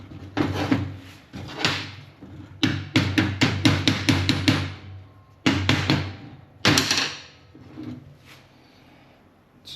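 Sharp taps and knocks set a Triumph Thunderbird tail tidy part into place, coming in quick clustered runs of hits with short pauses between, close and fairly loud.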